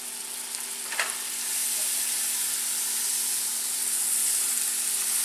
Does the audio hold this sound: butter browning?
yes